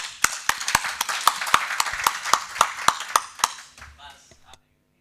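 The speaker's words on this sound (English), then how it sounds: "applaud for yourself" Steady, evenly spaced hand clapping, crisp and close, continues for several seconds with a voice underneath before tapering off into silence.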